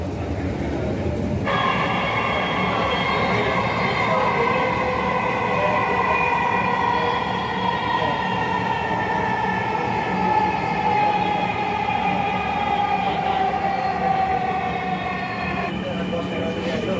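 A Dhaka metro rail train runs with a loud, continuous rumble and a steady whining tonal drone that slowly falls in pitch, holding constant for the whole stretch.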